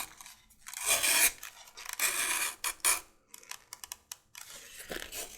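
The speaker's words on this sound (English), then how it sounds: "I'm going to do that just by using an 1 1/8 strap cutter" An 1 1/8 inch strap cutter slices along a leather strap, giving raspy, tearing scrapes in several close, loud strokes with short pauses between them.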